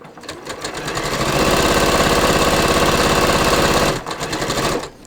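A sewing machine with a special presser foot stitches a seam in a fast, even mechanical chatter that swells and holds loud, drops briefly, then resumes before stopping.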